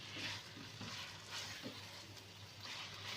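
Arbi (taro root) masala fries in a pan with a soft, steady sizzle, and gentle stirring adds a few faint rhythmic scrapes over the low continuous hiss.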